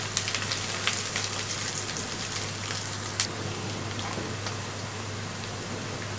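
A bay leaf is stirred in hot oil while chicken liver cooks, giving a steady close sizzle like light rain, with faint scattered ticks and scrapes throughout.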